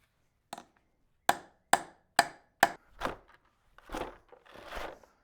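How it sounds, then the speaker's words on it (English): A hammer strikes metal while a Nam Sun 1540 engine lathe is being repaired, landing five sharp, ringing blows at a steady pace, then duller, rougher knocks that trail off, close and isolated with no talking. "The old hammer never fails."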